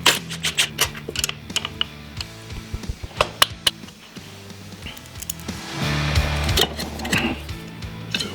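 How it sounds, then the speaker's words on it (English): Screws being driven back into motorcycle parts by hand, with sharp metallic clicks, ratcheting and scraping in an uneven rhythm, close and fairly loud, then a longer whirring stretch near the end. "I screw them right back on so that I know exactly where they belong"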